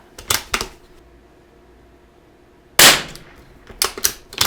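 A cheap .22LR rifle fired outdoors at a target range: a couple of sharp, loud cracks near the start, then a pause, then another cluster of close reports.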